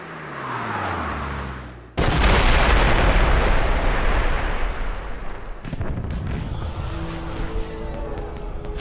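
Fireworks burst in a James Bond 007 Blood Stone game scene, a heavy explosive boom followed by sustained loud roaring crackle and scattered pops, with no talking.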